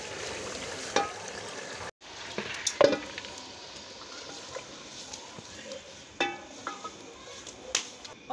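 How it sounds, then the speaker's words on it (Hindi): Chana daal tipped into spice masala frying in a pan, giving a steady sizzle with a few sharp clatters and stirring scrapes, close and moderately loud, with no talk over it. "अब हम डालते हैं इसमें अपनी दाल"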